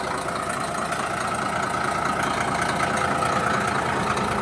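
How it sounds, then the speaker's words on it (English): A bulldozer's diesel engine runs steadily at a constant loud drone on a dirt road-building site while the machine rears up in a wheelie, with no speech over it. "dozer doing a wheelie."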